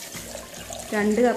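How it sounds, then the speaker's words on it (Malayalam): Cold water is poured into a jug holding about ten bilimbi fruits and sabja seeds for juice, making a brief splashing pour that runs under a person speaking. "അപ്പോൾ നല്ല തണുത്ത വെള്ളമാണ് ഞാൻ ഒഴിക്കുന്നത്"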